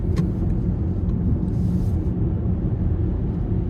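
A BMW iX all-wheel-drive electric car accelerates on the road, giving a steady, loud rumble of road and motor noise that holds without a break, with no talking.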